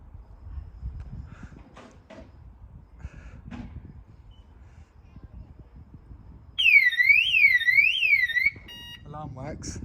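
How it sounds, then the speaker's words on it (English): A Subaru car alarm bursts on with a loud warbling siren for about two seconds, followed by short beeping chirps, after quiet handling noises and soft sounds at a distance. "Alarm works."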